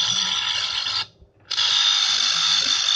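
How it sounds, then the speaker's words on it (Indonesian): Faulty Boyu 7 watt aquarium water pump running with a loud, harsh, steady mechanical whine and buzz, close up, briefly cutting out for half a second before resuming at full strength. "water pump atau mesin pompa air akuarium. Ini kerusakannya, suaranya kenceng banget."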